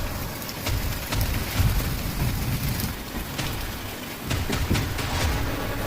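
Steady rain falls outdoors, a continuous broadband hiss with scattered louder drop impacts, moderately loud and alone without any talk.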